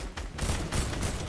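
Rapid bursts of gunfire in a competitive shooter tournament match, several loud pops in quick succession, close and harsh with no talking.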